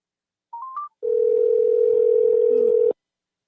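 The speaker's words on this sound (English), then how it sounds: "we're gonna get Jacob back on the phone" Continuous telephone dial tone heard loud and alone for about two seconds while calling someone back, preceded by a brief rising electronic chirp.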